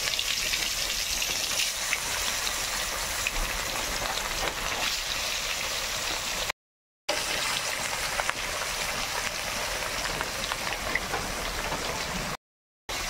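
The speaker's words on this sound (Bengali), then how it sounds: "তেল গরম হয়ে গেছে, এবার মাছগুলো দিয়ে দেবো তেলের মধ্যে" Rui fish fries in hot oil with a loud, dense, hissing sizzle that holds steady and close throughout, broken only by two brief gaps.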